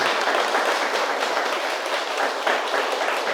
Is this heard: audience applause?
yes